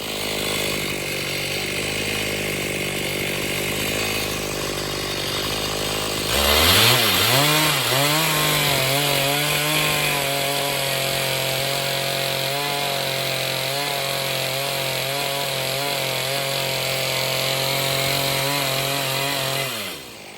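A chainsaw mills a large felled pine log into 16-foot beams, idling steadily at first, then revving hard at about six seconds and cutting loud and close with a sustained, wavering whine for the rest, no voices.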